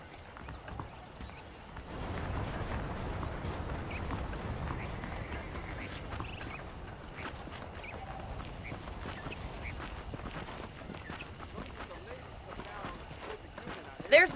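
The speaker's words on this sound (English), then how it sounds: "The horses are saddled up over here." Horse hooves clip-clop steadily in the Western video game Red Dead Redemption, a continuous trotting rhythm that starts after a couple of seconds and runs on at moderate level, with voices mixed in.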